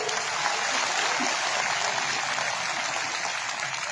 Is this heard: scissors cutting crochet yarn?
no